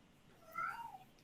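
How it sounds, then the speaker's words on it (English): A single short cat cry rises and falls over low room hiss, moderately close and alone, with no talking. "You're a cat screaming?"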